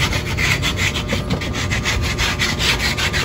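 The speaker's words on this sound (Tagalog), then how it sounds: "Lilihayin natin siya ng ano, number 80 para kuminis yung dulo niya." Steady back-and-forth rasping of number 80 sandpaper on the end of a piece of wood, close and loud, with a regular rubbing rhythm.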